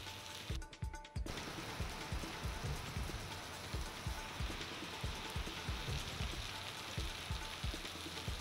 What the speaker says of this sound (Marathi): वाशिममधल्या रिसोड तालुक्यात सकाळी काही ठिकाणी अवकाळी रिमझिम पाऊस झाला